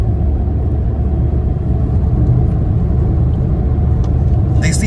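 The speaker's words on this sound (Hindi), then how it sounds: "एंड फील नहीं हो रहा है कि अपन ड्राइव कर रहे हैं इसको सीएनजी के अंदर, एकदम सुपर स्मूथ" Tata Tiago XZO i-CNG hatchback cruising at high speed on the road, with a steady, loud in-cabin engine drone and road rumble running continuously without a break.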